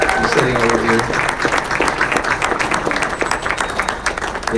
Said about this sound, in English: So we want to give Davy a round of applause.